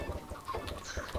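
Chickens clucking in the Minecraft video game, short repeated game-style clucks and low thumps over a steady background, moderately close, no voices.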